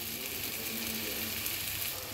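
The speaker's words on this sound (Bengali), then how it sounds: "3 থেকে 4 মিনিট এটাকে সুন্দর করে ভাজা ভাজা করব।" Spices frying in a covered pan for a pomfret fish curry give off a steady, even sizzle, close and continuous, with no talking over it.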